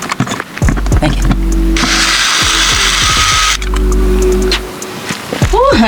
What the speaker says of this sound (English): Oh, honey, this drill is heavy.